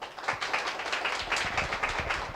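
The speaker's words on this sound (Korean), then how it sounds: "여러분 한번 큰 박수 한번 주시죠" Seminar audience at a talk concert gives a round of applause for the presenters and panelists, steady close clapping from a modest crowd lasting throughout.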